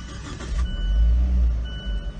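A 2018 Fiat Spider engine starts, a short crank followed by a low, close idle rumble that holds steady to the end.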